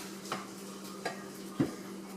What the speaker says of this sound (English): we're going to toss the onions around in the skillet while they are cooking so that they are cooking evenly